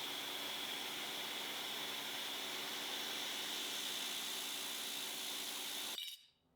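A metal-cutting machine cleans up the final corners of a metal part near its four lug holes, producing a steady, even whirring hum that runs unbroken and then cuts off abruptly near the end.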